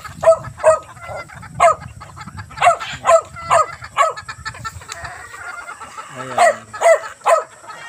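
Chickens cluck and call repeatedly at a rooftop coop on a Sunday morning, close and loud in rhythmic bursts, with a dog barking among them partway through.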